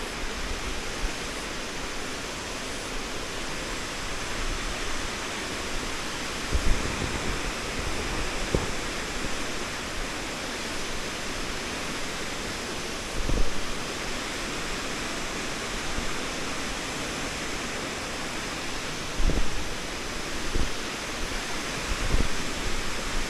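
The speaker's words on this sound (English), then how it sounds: "the Marokopa Falls plunges a massive 35 metres, which is over 11 stories" A steady, dense roar of Marokopa Falls in New Zealand plunging 35 metres pours on without pause, broad and constant, with a few brief low thumps rising above it.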